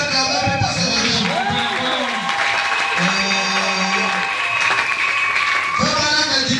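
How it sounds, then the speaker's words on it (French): Church audience applauding and cheering at a prophetic revival gathering, a loud sustained wash of clapping with whoops over music and a preacher's voice. "Est-ce qu'on peut acclamer pour cette région?"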